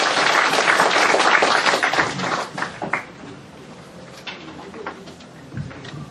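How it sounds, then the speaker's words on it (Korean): Audience applause at an academic colloquium as a visiting professor is introduced, a dense burst of clapping that swells loud for about two seconds, then thins into scattered claps and fades under room noise. "큰 박수 부탁드립니다."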